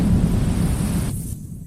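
A thunderstorm at sea, with a deep rolling rumble and dense noise like wind and rain that thins out toward the end, loud and close.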